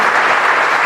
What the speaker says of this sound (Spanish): Vamos a brindarle un fuerte aplauso a